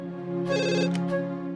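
A telephone rings during a call to the electricity office, a single bright electronic ring tone rising over a steady hum, heard alone without any voices.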